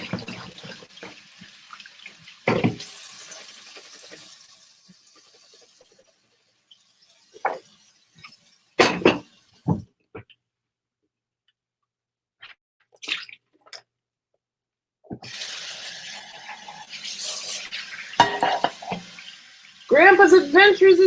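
Tap water runs into a kitchen sink in bursts as beans are drained and rinsed, with splashes, drips and handling noises between quieter gaps, close by.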